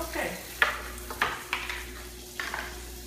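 Meat browning in a dry pan with no oil, a soft frying sizzle broken by several sharp scrapes and clinks of a utensil stirring against the pan, close by.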